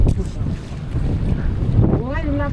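Wind gusts across the open sea around a small fishing boat, a loud continuous buffeting rush in the microphone, with faint voices and a brief whistling tone near the end.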